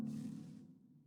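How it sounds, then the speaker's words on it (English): A telephone rings in the survival video game The Long Dark: a single loud, buzzing ring that holds steady for about half a second, then fades into a short decaying tail. "I hate that when you're woken up by the phone."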